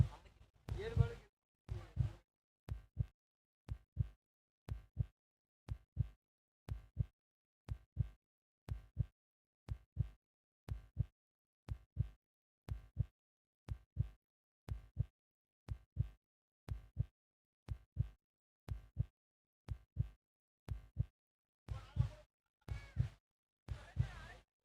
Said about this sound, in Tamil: இந்த நேரத்தில் ஹார்ட் பீட் தேவை தான்